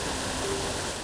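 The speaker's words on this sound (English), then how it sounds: "look at the water spewing" Water spews out in the video game Star Stable Online, a steady broadband rush like a waterfall that holds at an even loudness throughout, with no voices.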